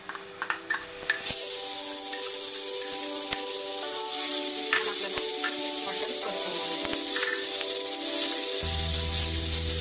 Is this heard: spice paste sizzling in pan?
yes